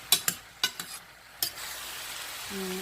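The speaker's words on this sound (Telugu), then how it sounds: "కొంచెం అప్పుడప్పుడు ఇలా కలుపుకుంటూ ఉండాలి." Pieces of yellow cucumber frying in a pan are stirred with a few quick scraping clatters of the utensil, followed by a steady, moderate sizzle; a brief tone sounds near the end.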